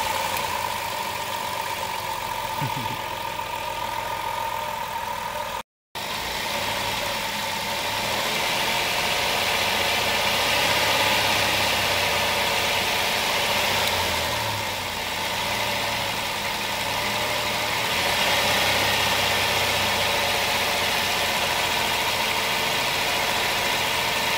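A 2007 Chrysler Town and Country minivan engine, sputtering on acceleration, runs steadily with a dense, even rumble and mechanical whir, heard up close and continuous, with a brief dropout early on.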